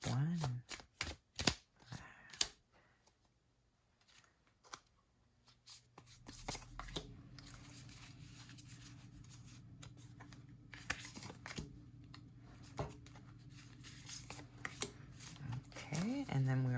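Animal Oracle cards being shuffled and pulled, producing quick bursts of papery riffling and slapping. A voice talks at the start and again at the end, with quieter shuffling and handling in between.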